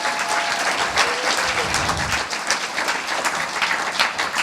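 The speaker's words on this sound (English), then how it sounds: "Let's once again have a round of applause for all of our contestants tonight." A pitch-competition audience applauds its contestants, a steady wash of many hands clapping close and full for several seconds, with a faint voice briefly under it.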